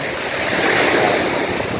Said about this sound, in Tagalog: Maganda yung dagat dito.